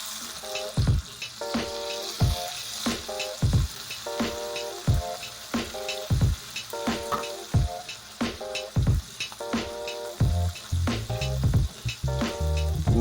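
Fish laid into hot oil in a pan over low heat sizzles and crackles steadily at close range, with repeated sharp clinks and scrapes of tongs or utensils against the pan throughout.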